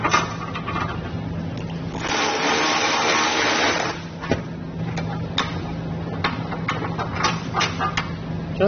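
Power tool with an 18 mm socket backing out bolts on a 2023 Jeep Wrangler 4xe during a trailer hitch install, a steady whirring burst mid-clip amid clicks and ticks of loose hardware.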